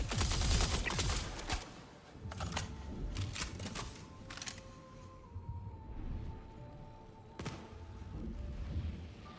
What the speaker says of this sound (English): Oh, that's a lot of gunfire.